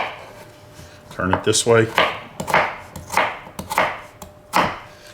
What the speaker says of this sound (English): little cubes of potato. Do the other slices same way.